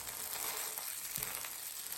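Laverbread cakes fry in a pan with a soft, steady sizzle and faint crackle, low in level and continuous for a couple of seconds, with no voices.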